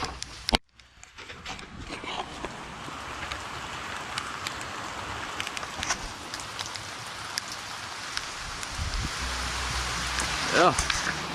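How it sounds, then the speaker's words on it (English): Heavy rain pours down outdoors in a dense, steady hiss that stays constant throughout, with a few louder drips and patters near the end. "Oh my gosh, it's really raining."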